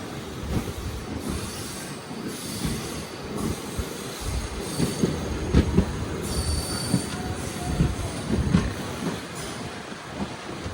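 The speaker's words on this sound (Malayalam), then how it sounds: "അങ്ങനെ നാഗൂറിൽ നിന്ന് ഇതാ നമ്മുടെ ട്രെയിൻ എടുത്തു" A passenger train leaving Nagore runs along the rails, wheels squealing and rumbling with uneven clatter, loud and close for the whole stretch with no talking.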